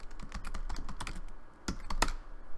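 Quick bursts of keystrokes on a computer keyboard, close and crisp, with a short pause before a few final sharper taps; no one speaks.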